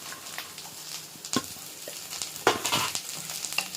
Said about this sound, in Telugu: ఇప్పుడు ఇందులోకి బీన్స్ కూడా వేసుకొని కలుపుతున్నాం కాసేపు.